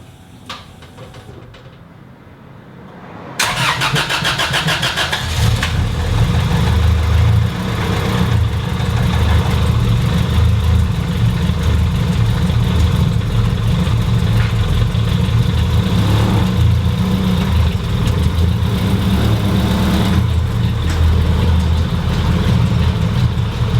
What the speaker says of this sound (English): Those cold startups after not turning on the car for like 2-3 days. Yeah, piston slaps.